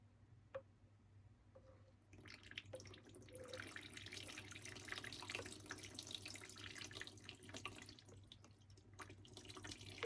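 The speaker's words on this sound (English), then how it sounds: "Then I have a variegated Alocasia Poly that we're going to water." Water pours steadily into the pot of a variegated Alocasia Polly houseplant during late-night watering, a continuous close splashing and trickling that starts after about two seconds, with a few faint drips before it and no talk.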